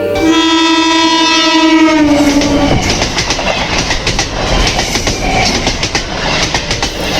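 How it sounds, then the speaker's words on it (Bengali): A train blasts a loud, sustained horn for nearly three seconds, then its wagons rumble and clatter steadily past close by, with no voices. "সুশান্ত তাকে কোলে নিয়ে কখনো বা হাঁটিয়ে প্রায় দিন বিকেলে ট্রেন দেখাতে নিয়ে যায়"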